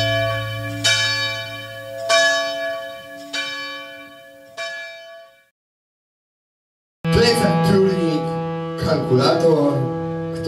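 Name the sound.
church bells ringing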